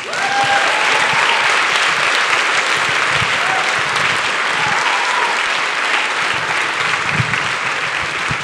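A theater audience greets director Paul Thomas Anderson at a Q&A with loud, sustained applause that stays dense and even for more than eight seconds.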